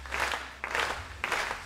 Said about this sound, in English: it's not easy if you are on the firing line hearing people clapping